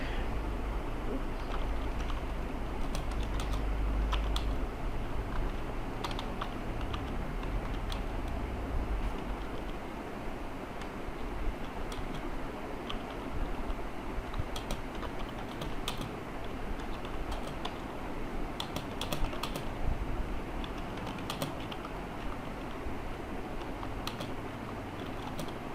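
Steady typing on a computer keyboard, quick irregular key clicks running throughout at moderate closeness over a low background hum, with no talking.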